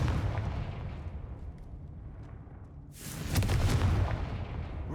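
A Confringo fire spell blasts in Hogwarts Legacy: a booming explosion with a long rumbling tail, followed by a second sharp, crackling burst, loud and close.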